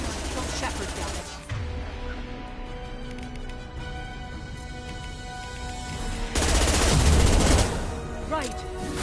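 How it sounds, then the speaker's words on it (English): Heavy gunfire from the impact gun in the Mass Effect 2 game: a dense, loud stretch of rapid shots and blasts that swells near the end, with battle noise and speech-like voices mixed in throughout. "Firing an impact gun!"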